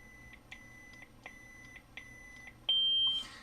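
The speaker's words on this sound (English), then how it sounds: "If you're ever hearing these beeps and the saber's off" A Proffie-board Darth Vader lightsaber gives a series of short, quiet electronic beeps, evenly spaced about every three-quarters of a second, then a longer higher tone and a brief crackle of saber sound at the end.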